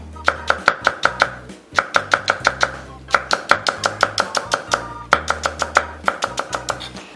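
A knife slices green onion (daepa) thinly on a cutting board, with rapid, evenly spaced crisp chops in three quick runs separated by short pauses, close and loud, with no voices.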